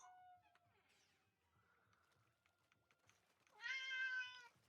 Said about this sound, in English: He's probably gonna meow.